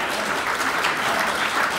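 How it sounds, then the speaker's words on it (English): Steady, dense applause fills the hall throughout, from an audience at an environmental forum at SUNY Adirondack in Queensbury, New York. "So give yourselves a round of applause."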